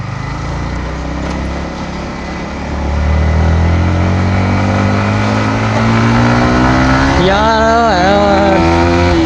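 A Yamaha MT-15 motorcycle engine revs loudly and up close during a ride, its pitch climbing steadily and then surging in a sharp burst of throttle near the end.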